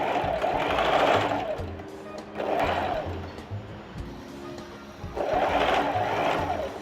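Sewing machine stitching a gathered ruffle on fabric: steady whirring motor runs in three sustained bursts, close and loud, separated by quieter pauses with faint mechanical rattling.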